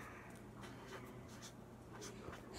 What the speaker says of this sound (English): I'm gonna write that.